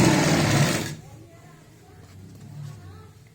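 A sewing machine stitching a salwar runs loud and steady for about a second, then stops, leaving quieter rustling of the cloth being handled.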